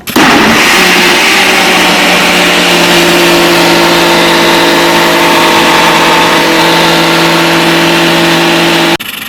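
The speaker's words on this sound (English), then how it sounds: "now we're ready to put this guy on the Ninja blender" A Ninja blender runs loudly at full power for several seconds with a steady whirring hum, then cuts off abruptly.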